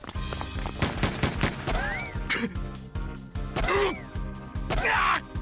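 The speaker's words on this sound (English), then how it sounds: "Azusa unleashes a flurry of gunfire on our enemies." Gunfire in the Dracu-Riot video game: a flurry of sharp shots in quick succession, close and loud, mixed with whooshing effects and short cries.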